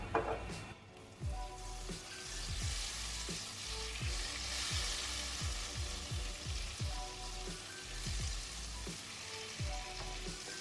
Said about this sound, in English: in our preheated pot, we're going to start off by melting the butter